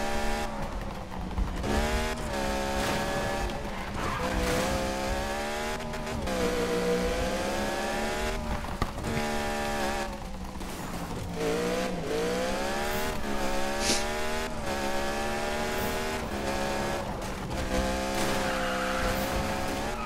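A fast car in the Need for Speed racing game, its engine whining and rising and falling in pitch as it accelerates and shifts, with tire squeal and skids running almost continuously for twenty seconds.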